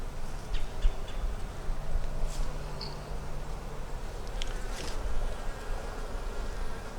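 Honeybees in an open beehive, a small nucleus colony with honey and nectar frames, give a steady close buzzing hum that holds throughout, with no voices over it.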